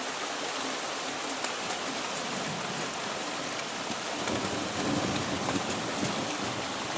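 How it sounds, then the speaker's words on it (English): A continental thunderstorm ending a hot sunny day pours heavy rain in a dense, steady roar, with a low rumble of thunder swelling in the background partway through. "You get this continental thunderstorm."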